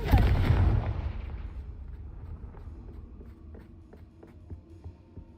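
A Confringo fire spell in Hogwarts Legacy bursts with a loud, heavy blast at the start, then fades into a low rumbling tail with a few faint ticks and thuds.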